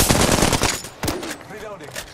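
Rapid automatic gunfire from the video game Apex Legends, a dense burst of shots through the first second, then a few sharper scattered reports and lingering echo.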